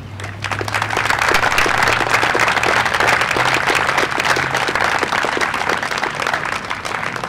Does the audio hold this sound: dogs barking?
no